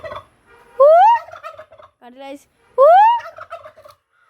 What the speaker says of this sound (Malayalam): ഇതുണ്ടല്ലേ ടർക്കി കോഴിയാണ്